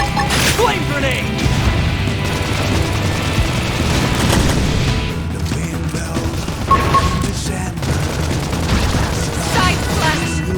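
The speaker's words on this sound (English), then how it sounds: "Flame grenade!" A flame grenade explodes in the video game Xenoblade Chronicles X, a dense boom and crash amid repeated combat hits and clashes, loud and busy with a voice calling out.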